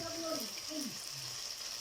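Food frying in a wok sizzles softly as ingredients are stir-fried, with a faint hiss and a couple of brief scraping strokes of the spatula; quiet, close and without talk.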